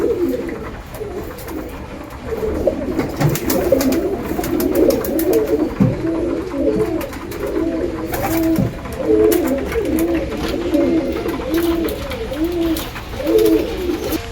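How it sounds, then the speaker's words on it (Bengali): Pigeons kept in a home loft coo continuously nearby, overlapping rhythmic calls rolling on without pause against quiet background noise. "এখন পায়রাগুলোকে সব নামিয়ে আনতে হবে।"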